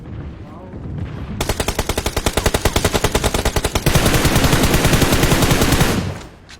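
Gunfire in a shooting video game: a long, loud burst of rapid, evenly spaced automatic shots, then a denser, continuous roar of fire before it cuts off.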